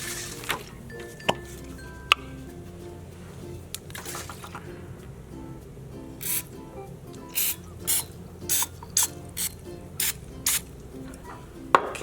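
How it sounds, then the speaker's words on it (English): Cooking spray squirted into a mini muffin pan, about a dozen short sharp hissing bursts in a quick irregular series after a few faint clicks and knocks, close and alone. "Spray a small amount of cooking spray into the bottom of the muffin pan"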